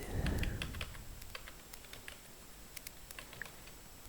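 Quick, light keystrokes on a computer keyboard patter in irregular bursts, close and clear, after a brief low rumble at the start, with no talking.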